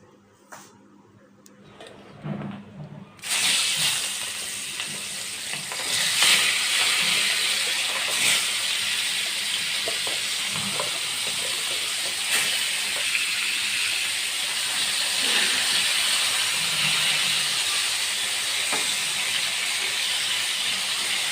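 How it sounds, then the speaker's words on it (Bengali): Freshly added pieces of large aair fish frying in hot oil in a frying pan, starting with a few clanks, then a sudden loud, sustained sizzle and hiss that continues steadily close by, with occasional small pops and clicks. "মাছগুলো দিয়ে দিলাম এখন আস্তে আস্তে ভেজে নেই"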